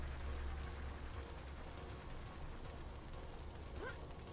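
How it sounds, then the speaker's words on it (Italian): Steady rain falls in the video game RAD, a dense even hiss that fills the whole stretch with no voices over it. "Pioggia così mi fa schifo"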